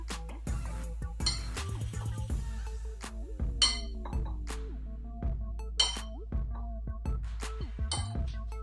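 A small bowl handled in a home kitchen, ceramic dishes clinking and tapping in short bright knocks at irregular intervals, fairly close and quiet with brief ringing tones between them.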